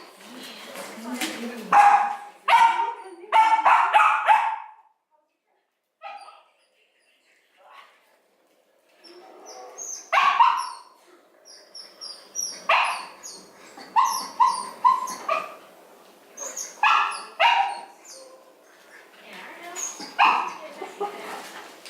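A litter of six-week-old Cachet Vegas puppies yips and barks in bursts of high, sharp calls, close by, with someone talking to them between and over the barking.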